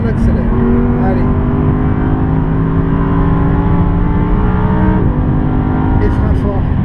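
A car at full throttle on a race track during a Pirelli PZero driving event: a loud, steady engine drone with a slowly shifting pitch, heard from on board while a voice talks over it.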